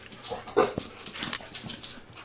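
An XL Bully dog indoors pants and lets out a few soft whimpers and yips close by, quiet and intermittent.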